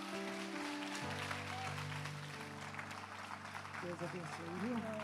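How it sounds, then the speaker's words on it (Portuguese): A church congregation applauds softly and steadily beneath sustained organ or keyboard chords, with a voice singing or speaking over it near the end. "Você pode aplaudir o Senhor?"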